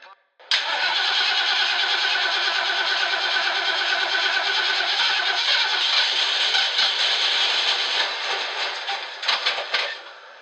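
A car engine cranks and catches, then runs steadily and loudly for several seconds before sputtering near the end.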